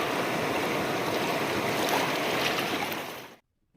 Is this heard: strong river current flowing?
yes